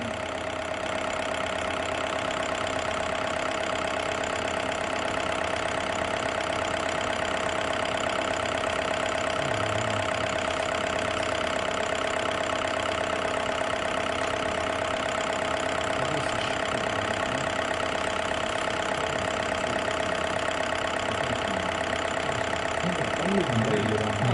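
Diesel engine idling steadily during a common rail injector test, a constant mid-pitched hum with a faint tonal whine and light knocking, continuous and unchanging throughout.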